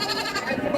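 Goats bleat in a steady, overlapping chorus at moderate volume at a goat market in Garcia, a busy livestock pen with no gaps in the noise.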